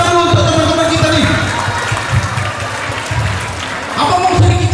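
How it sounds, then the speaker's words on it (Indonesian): Audience clapping at a talk show with a student audience, a broad wash of applause that swells and fades partly under someone speaking through a microphone. "Tepuk tangan dulu untuk teman-teman kita nih."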